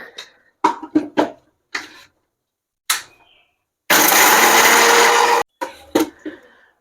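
Mixer grinder powdering roasted spices for temple-style tamarind rice, one loud sustained whirring burst of about a second and a half, preceded and followed by short knocks and clatter of the jar.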